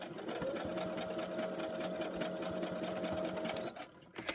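A sewing machine runs at a steady fast pace, stitching ruffles for a pink Christmas journal; a loud, close, continuous mechanical hum that stops near the end, followed by a few light clicks.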